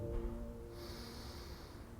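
A slow, deep breath taken during a cooldown stretch, a steady airy inhale and exhale close to the microphone under a faint low hum.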